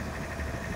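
A 2012 Bomag BW120AD articulated dual drum vibrating road roller with a diesel engine idles steadily, a close, even mechanical rumble with no variation over the short stretch.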